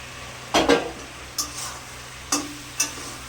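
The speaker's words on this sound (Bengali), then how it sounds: "একটু ভালো করে কষিয়ে নেবো মাছের মাথা" Katla fish heads sauté in a pan with a few distinct stirring and scraping strokes over a faint sizzle, the strokes spaced irregularly and close to the microphone.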